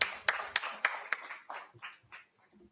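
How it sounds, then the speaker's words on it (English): Audience applause welcoming a speaker on stage at an education summit: a few sharp, loud claps at first, thinning into scattered, quieter clapping that fades within a few seconds. "Can you please welcome Mr. Nair with a round of applause?"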